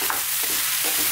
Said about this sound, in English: Keep stirring, don't take your eye off it now.